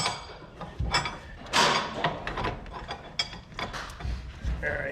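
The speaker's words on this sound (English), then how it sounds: "now we're going to take a wrench and put it on the inside" A wrench works on the rear wheel bearing of a 2001 BMW 325Ci, giving a series of close, irregular metallic clicks and scrapes that come in short bursts, with no one talking.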